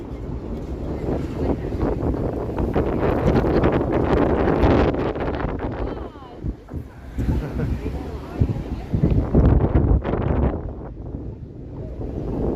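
Strong gusts buffet an outdoor microphone on a downtown Toronto street, a loud continuous rumble that swells and dips, with a voice talking over it.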